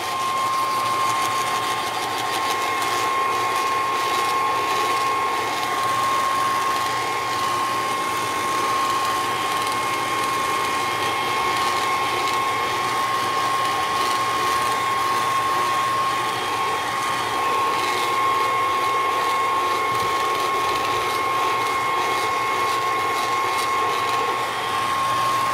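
Hair dryer blowing steadily to dry faux skin, a loud continuous whirring drone with a constant high whine and slight fluttering texture, close and unchanging for the whole stretch with no talking.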